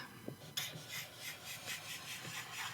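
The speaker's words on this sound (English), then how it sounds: "let's do some swatching and see how these markers perform on some paper here" Broad chisel-tip Ohuhu alcohol marker dragged across paper in a steady run of soft, raspy strokes, quiet and close, about a dozen repeated swipes with no talking.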